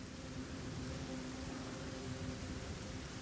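Steady rain falls in the video game Afterparty as a constant, even hiss with no breaks.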